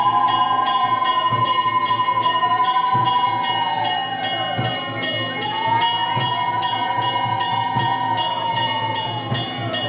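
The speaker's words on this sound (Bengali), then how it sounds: "শঙ্খ, ঘণ্টা, মানুষের কোলাহলে সব মিলিয়ে এই সময়টা শান্তির।" Evening aarti at a Kali temple in Kolkata: rapid, continuous bell ringing with regular strikes, over a long wavering tone like a blown conch, loud and unbroken throughout.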